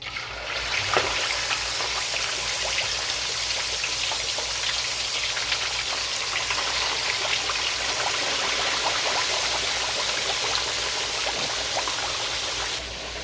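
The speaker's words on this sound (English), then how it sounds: "My oil is hot, so I'm going to stir my fish." Fish frying in hot oil after garlic, ginger and mustard seasoning, giving a steady, dense crackling sizzle with scattered pops throughout, close and continuous, with no voices.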